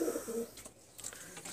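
A pair of adult Pakistani Teddy breed pigeons coo nearby, a couple of soft, throaty calls that are clear and close, with no speech.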